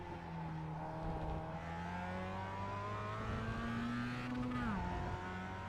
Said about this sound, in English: Third gear and then accelerating fully to the end.